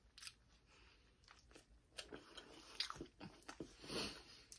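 Biting and chewing a Burger King chicken wrap, close and quiet, with several crunchy bites and soft mouth sounds spread irregularly across a few seconds.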